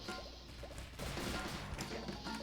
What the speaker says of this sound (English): Smashing against the walls.